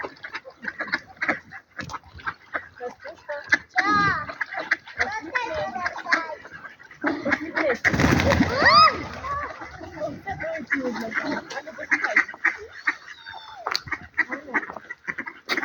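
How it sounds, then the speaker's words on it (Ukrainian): Ducks quack and splash repeatedly on a park pond in Truskavets amid steady background chatter of people feeding them nearby, with a louder burst of activity midway. "Всі кормлять качок."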